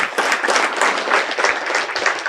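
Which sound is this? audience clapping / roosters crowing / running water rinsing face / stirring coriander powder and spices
audience clapping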